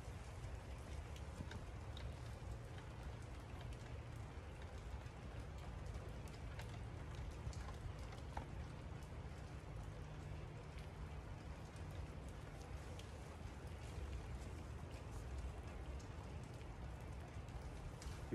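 Steady overnight rain falling in a backyard, a continuous even hiss of drops on surfaces holding at one level throughout with no voices.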